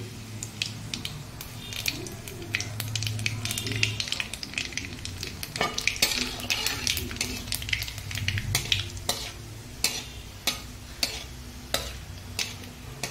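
Dried red chilli, bay leaves and black cumin seeds sizzle and crackle in warm mustard oil in a pan, steady frying hiss with sharp spitting pops and occasional stirring scrapes, close up.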